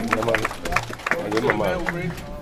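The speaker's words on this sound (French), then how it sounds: "On acclame. On acclame." A crowd claps and cheers at the inauguration of a counter in Sori, a steady burst of applause mixed with voices and chatter close by.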